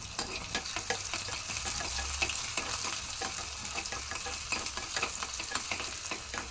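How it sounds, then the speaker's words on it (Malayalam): Onions fry in hot oil in a pan for a rohu fish curry, a soft, continuous sizzle broken by regular scraping and clicking strokes as they are stirred, with no voices. "ഉള്ളി നമുക്ക് ഇട്ട് കൊടുത്തിട്ടൊന്ന് പൊരിച്ചെടുക്കാം."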